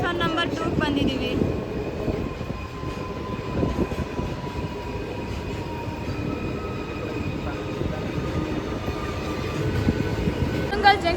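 A MEMU passenger train rumbles into Toranagallu station in Karnataka with continuous wheel and carriage noise, faint squeals and a steady mechanical drone, close and sustained, with some voices mixed in.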